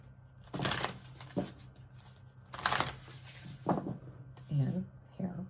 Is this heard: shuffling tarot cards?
yes